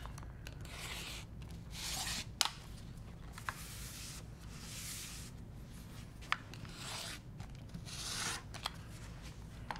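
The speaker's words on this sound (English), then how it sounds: "We're gonna cut 6 1/2 by 5 1/4 and we're gonna have both fabrics right sides up." Quilting fabric cut along a Clammy clamshell ruler, heard as faint, soft swishing and rasping cutting strokes with small clicks in between, close by in a quiet room.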